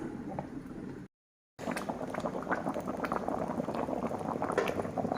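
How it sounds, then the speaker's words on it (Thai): Fish curry soup with jackfruit leaves boils in a covered pot, giving a steady bubbling, gurgling roar that cuts out briefly near the start and then resumes close and continuous. "เดือดซุปแล้ว"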